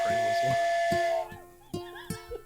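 A steam-style train whistle sound effect blows loud and sustained at first, then fades, with people talking over it in a comedy podcast setting.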